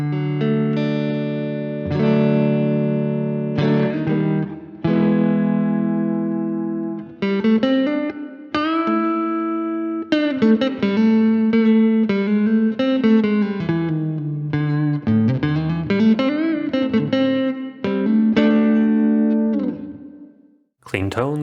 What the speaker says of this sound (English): So Clean Tones neck pickup.